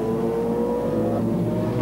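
A McLaren race car at a 1996 Temporada race in Curitiba winds up its engine in the pit lane, a steady, loud droning roar with layered harmonics that holds constant throughout, with no speech over it.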